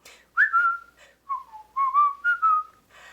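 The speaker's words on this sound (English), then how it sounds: "Just purse your lips and whistle, that's the thing." A person whistles a cheerful, bouncy tune alone and close by, in short phrases with brief gaps, during a Sunday church service.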